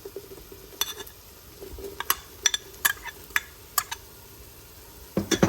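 Spoon scraping and clinking against a pot while stirring shrimp creole with green onion, a series of short, close knocks and scrapes in an irregular rhythm over a faint background hum.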